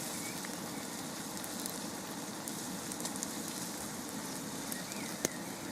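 Steak frying in a pan outdoors during a paddling trip gives a steady, even sizzle with soft crackles throughout, fairly quiet and unbroken, with no talk.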